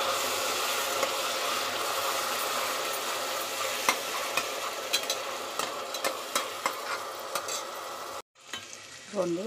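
Onion paste fries in hot oil for a mutton paya gravy, a steady close sizzle with scattered crackles and occasional stirring scrapes, briefly cutting out near the end before resuming.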